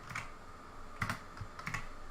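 Keys on a mechanical computer keyboard pressed while playing Playerunknown's Battlegrounds, a few sparse, crisp clicks in small clusters, close by and fairly quiet.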